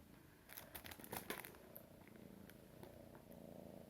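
A cat purrs softly close to the microphone, a low rhythmic rumble broken by a few light rustles and clicks, with no one speaking.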